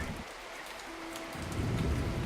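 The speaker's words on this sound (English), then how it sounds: "it's raining." Rain falls steadily in a video game set in predynastic Egypt, a dense continuous hiss with a faint low rumble beneath.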